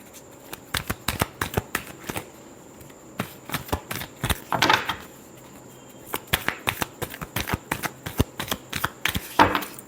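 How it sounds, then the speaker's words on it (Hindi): Tarot cards being shuffled by hand, a steady run of crisp riffling and flicking bursts that pause briefly midway and then resume, close and fairly quiet. "Last shuffle."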